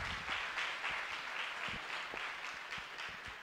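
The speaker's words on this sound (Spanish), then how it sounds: "Denle un fuerte aplauso" An audience at a Spanish-language business training session keeps up a steady wash of applause, rather soft and distant, with many hands clapping together throughout.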